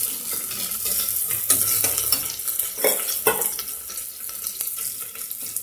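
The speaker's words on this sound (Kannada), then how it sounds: "ಚೆನ್ನಾಗಿ ಫ್ರೈ ಆಗಬೇಕು ಈರುಳ್ಳಿ." Finely chopped onions fry in a pan, giving a steady bright sizzle broken by scraping and clattering stirs from a spoon, close and fairly loud, with no voices.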